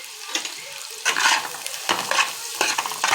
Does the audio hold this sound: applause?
no